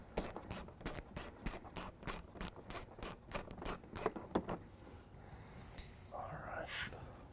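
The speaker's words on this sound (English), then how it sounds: "first step to taking off the bumper, we'll be removing these two 8mm bolts right here" A ratchet clicks in quick, evenly spaced bursts while loosening 8mm bumper bolts on a 2015 Mini Cooper Countryman, close and crisp, followed by quieter handling noises.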